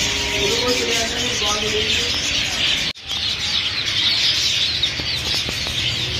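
Colorful caged bird chicks chirp busily, with soft wing flutters, close and loud, over a dense bird chatter background; a voice talks briefly over the first seconds.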